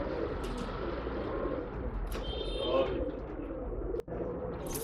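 Pigeons coo at a pet shop in Bangalore, soft repeated low coos over a busy room hum with some chirps, a brief sharp knock near the end, and no clear talk.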